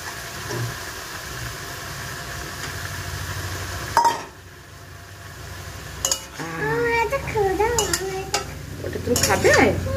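Soaked dal is stirred into oats khichdi in a cooking pot, with soft scraping and occasional clinks of a spoon over a steady background hum, and a voice talking toward the end.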